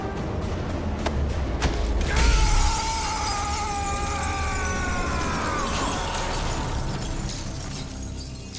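A glass roof shatters in Call of Duty Modern Warfare, with sharp impacts followed by a loud crash and a long tinkling spray of breaking glass and debris over a busy game soundscape.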